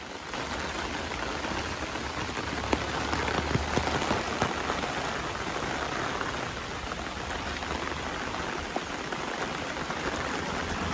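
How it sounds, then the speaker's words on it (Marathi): Steady rain falls on the Konkan coast near a river in the Western Ghats region, a dense continuous patter of drops on surfaces that stays even and close for the whole stretch. "पाऊस वाढलेला आहे."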